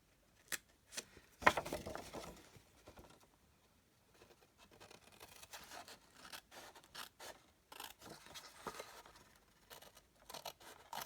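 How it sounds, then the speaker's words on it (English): Paper trimmer or scissors slicing a rectangle from patterned designer series cardstock, quiet scattered scraping and cutting strokes close by with short pauses between them. "I'm going to cut off this rectangle here."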